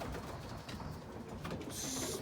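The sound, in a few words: racing pigeons cooing in the loft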